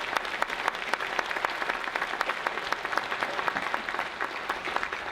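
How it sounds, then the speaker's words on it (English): Audience at a chamber of commerce membership banquet applauding its sponsors, a steady wash of clapping from many hands that stays fairly even throughout, with no talk over it. "Let's give all of these sponsors a warm round of applause."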